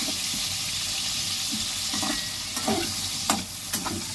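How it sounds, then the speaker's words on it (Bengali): Pumpkin pieces fry in oil in a pan, a steady close sizzle with a few light stirring taps and scrapes near the end. "কুমড়োটা আর একটু ভাজা হবে"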